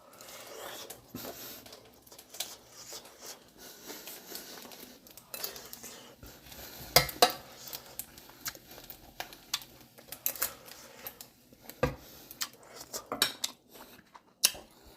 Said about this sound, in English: I'm eating out of my bowl of rice.